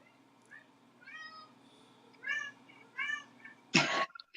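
A cat meowing indoors, several short separate meows spaced a second or so apart, quiet and close, followed by a brief sharp rustle at the end.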